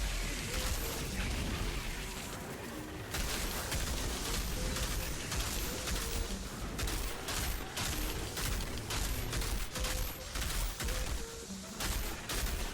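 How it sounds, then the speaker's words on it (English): Cluster bomb blasts amid dense gunfire in the shooter game Outriders, a sustained, crowded barrage of rapid shots and bursts that barely lets up, loud and continuous. "All we need is that one cluster bomb to go off. And it did, thankfully."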